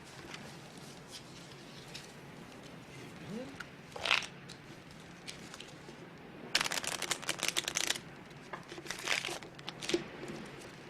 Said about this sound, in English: You can shuffle the cards, Mr. Poirot.